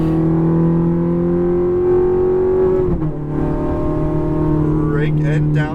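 Ferrari F430 engine pulls hard at full throttle, a loud steady high-pitched wail that dips briefly as the gears shift, then climbs again with tire and track noise close by.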